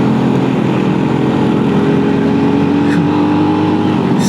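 A Honda CBR motorcycle engine labours steadily in second gear up a steep mountain road near Thanchi, a loud, continuous close-up drone with a faint voice beneath it.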